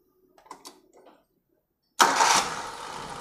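A Suzuki Jimny Katana engine starts from cranking, with a few faint clicks and a pause before it catches into a loud, close, steady running roar.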